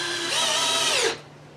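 A power drill drives a couple of screws into a brace on a silkscreen shop build, one steady high whine lasting about a second before stopping abruptly.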